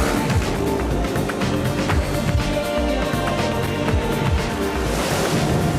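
Heavy rain and wind roar in a dense, constant wash while riding a motorcycle on the road into Cape Town, loud and unbroken with buffeting rumble throughout.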